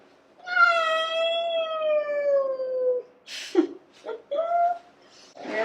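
A large cat gives a long, drawn-out loud meow followed by shorter, choppier meows and growling yowls nearby, with a person speaking between the cries.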